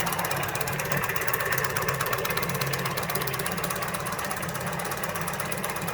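A paint shaker runs with a steady mechanical hum and rattle, with a rough grinding buzz from a worn bearing, close and unchanging throughout.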